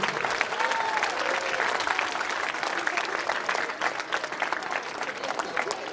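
Alumni at the JNV Laduna Mandsaur 2024 alumni meet applaud to welcome a former student, a steady, moderately distant roar of many clapping hands filling the whole stretch, with faint voices underneath.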